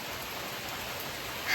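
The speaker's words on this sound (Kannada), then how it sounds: "ಬಿಕಾಸ್ ಜೋರು ಮಳೆ ಬರ್ತಿದೆ ನೋಡಿ." Heavy rain pours down steadily as a dense, even wash of noise, close and fairly loud throughout, with no voices.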